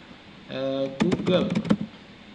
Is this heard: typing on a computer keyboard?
yes